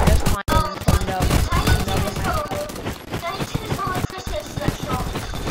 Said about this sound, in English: This is Tiny Tim. Tiny Tim. Other known as my shotgun, and he's gonna do some damage